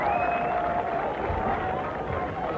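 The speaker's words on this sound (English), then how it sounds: "Something then to cheer the visiting fans" Visiting rugby fans cheer in a stadium crowd at a Newbridge versus Pontypridd match, a steady roar of distant voices with a commentator talking over it.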